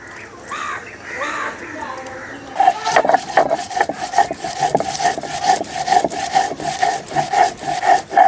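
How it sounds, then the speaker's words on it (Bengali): Garlic, green chili and mustard seeds are ground into paste on a stone in a kitchen, first with soft scattered rubbing, then a steady, close, rhythmic scraping grind that continues to the end. "প্রথমেই রসুনটা বেটে নিচ্ছি। কাঁচা লঙ্কা সর্ষেটা বেটে নেব এখন।"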